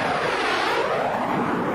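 A BD5J, a tiny single-seat jet plane, flies past with a steady, loud engine roar and whoosh that holds at an even level throughout, with no voices.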